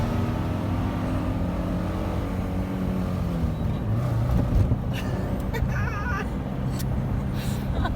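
A manual car fitted with a fixed exhaust and mufflers pulls away from a stop, its engine a steady, loud rumble with a slight rise in revs as it moves off.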